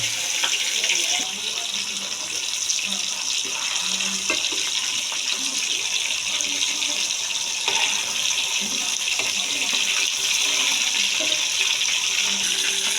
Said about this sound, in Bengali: আমার তেলটা গরম হয়ে গেছে, এখন আমি দিয়ে দেব মাংস।